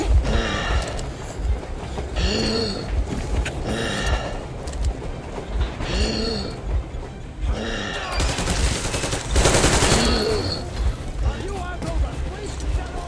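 Gunfire in Metro Exodus during a fight aboard a train, shots crackling amid rumbling rail noise and mechanical clatter, with voices shouting over the din and a louder burst near the end.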